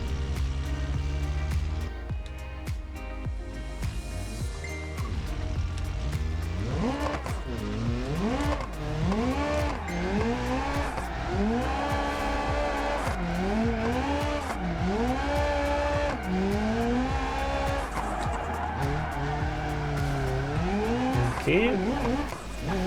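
In BeamNG, a drifting car's engine revs rise and fall in repeated surges while tires squeal through long slides, loud and continuous throughout.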